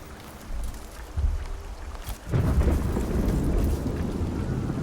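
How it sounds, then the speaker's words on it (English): Ominous thunder in the Mechanicus 2 video game rolls in as a deep, heavy rumble, building to a loud, sustained roar in the second half of the clip with no voices over it. "Very ominous thunder."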